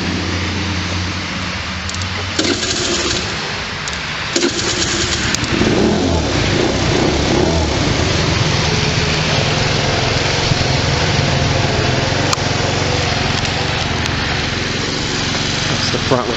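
A scooter fitted with white LED driving lights and flashers starts up and runs, its small engine buzzing and revving close by in a steady, loud drone.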